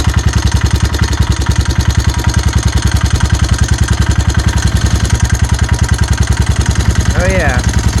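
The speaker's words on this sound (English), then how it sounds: "This engine is old and makes bad noises" An old Honda TRX 300 ATV engine runs with a steady, rapid, loud idle putter, continuous throughout and close by, with a brief higher warble near the end.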